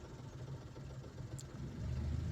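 Car engine of a learner's driving-school car rising gently as the accelerator is lightly pressed, a steady low hum that grows slightly louder toward the end, alone without talk.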